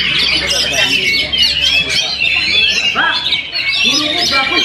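A kacer (magpie-robin) singing at a bird song contest, loud bright chirps and squawking whistles in rapid varied phrases, close by, with crowd chatter and other birds around.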